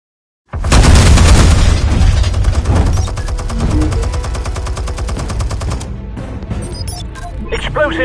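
Loud, close blast followed by sustained rapid automatic gunfire and booming explosions in a game, a dense continuous barrage that gradually thins toward the end.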